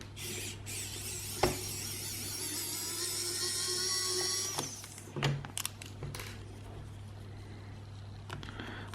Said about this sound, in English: So here I am using my Wow stick from AliExpress to get these open.